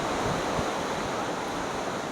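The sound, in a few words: flowing water at a park in Mansehra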